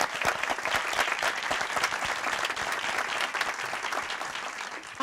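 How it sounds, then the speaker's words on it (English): An audience at a Sphinx Stars Detroit concert applauds a performer after her music set, with full, sustained clapping from many hands that stays fairly even and eases slightly toward the end. "Let's give her another round of applause."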